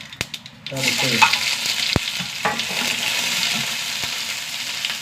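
Small shallots drop into a hot pan and set off a loud, steady sizzle, with a few sharp clicks and knocks near the start. The cooking is for a bean upperi stir-fry.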